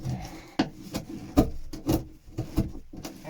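Damaged fiberglass being scraped and ground away from a Shetland boat hull, a series of sharp rasping strokes in an uneven rhythm, close and fairly loud with short pauses between bursts.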